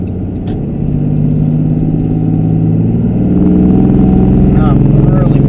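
A Cummins diesel truck pulls hard at half throttle, its deep engine drone stepping up and swelling in loudness as it accelerates, heard from inside the cab and loud throughout.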